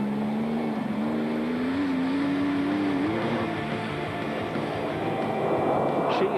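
A Porsche rally car driven hard on a long-distance marathon rally, its engine droning steadily at close range with a rising and shifting pitch.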